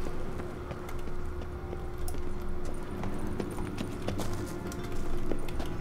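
Hooves clip-clop repeatedly in The Witcher 3: Wild Hunt, a steady walking rhythm over a busy game backdrop with occasional jangling, moderately loud and close.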